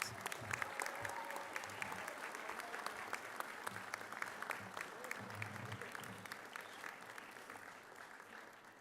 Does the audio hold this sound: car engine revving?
no